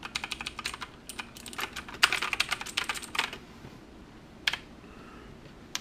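Rapid clicking keystrokes on a Poseidon computer keyboard come in close, uneven bursts, then slow to a few scattered taps near the end.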